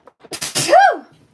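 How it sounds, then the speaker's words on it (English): A single close, loud sneeze with a sharp intake of breath before it and a bright, rising-falling burst, then quiet. "I really needed to sneeze."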